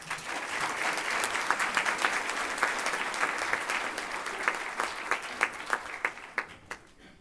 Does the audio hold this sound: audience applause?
yes